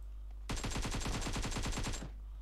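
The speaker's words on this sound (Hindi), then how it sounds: "कोई गोली चला रहा है।" Automatic gunfire in PUBG Mobile played on an emulator: one loud, rapid burst of about fifteen evenly spaced shots lasting under two seconds, with no talk over it.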